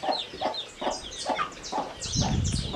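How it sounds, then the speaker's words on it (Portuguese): Hens cluck in a steady repeated rhythm on a farm, with the soft peeping of two-week-old naked-neck chicks close by and a busier flurry of clucking near the end. "Os pintinhos nasceram faz 2 semanas, na verdade."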